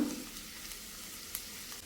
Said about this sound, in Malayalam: ചൂടായ ഓയിലിലേക്ക് നമുക്ക് ഒരു വലിയ സവാള ഈ ഒരു രീതിയിൽ ചെറുതായിട്ട് ഞാനൊന്ന് കട്ട് ചെയ്ത് എടുത്തിട്ടുണ്ട് ഇതൊന്ന് ഇട്ട് കൊടുക്കാം